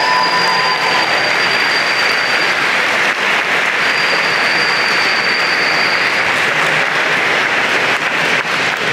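Sustained, loud applause fills a large hall at a college engineering and computer science convocation as faculty members stand, steady broadband clapping throughout with no talk over it.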